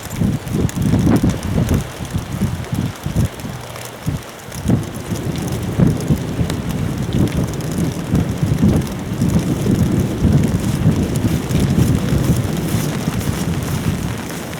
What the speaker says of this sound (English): the wind's blowing from a different direction, the rain's really coming down like hell